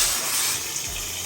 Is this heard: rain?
no